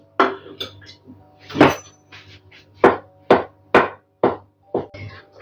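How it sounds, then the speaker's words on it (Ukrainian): Knife cutting crab sticks into thin strips on a board for a layered salad, a series of sharp separate chops and taps at an irregular pace, close and clear against a quiet kitchen background. "І далі соломочкою нарізаю крабові палички"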